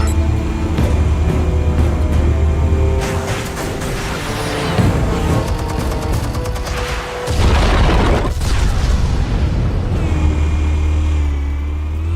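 Explosives going off in the Batman Telltale video game, a loud rumbling blast with crashing debris and mechanical clatter that swells midway, then fades into a steady hum.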